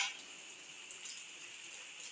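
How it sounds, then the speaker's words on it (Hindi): Rain falling steadily outside, a faint, even hiss with occasional soft drips, with no voices over it. "हर 10-15 मिनट बाद बारिश आ रही है।"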